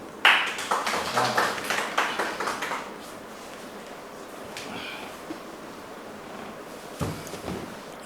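Audience applause at an Urdu mushaira, a short burst of clapping that starts sharply, holds for about two and a half seconds, then fades into a quiet hall with scattered small sounds.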